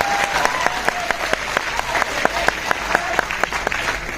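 A lecture audience in a hall in Indore clapping: loud, close applause with a sharp, steady beat that repeats for several seconds, a brief tone at the start and murmuring underneath.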